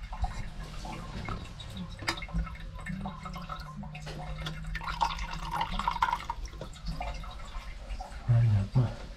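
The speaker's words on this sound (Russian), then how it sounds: "вода вот это переполняет, и она бежит вот все в унитаз" Water overflows from a tube in a bathroom and runs into a toilet, a thin trickle with scattered drips, faint and close, under intermittent talking.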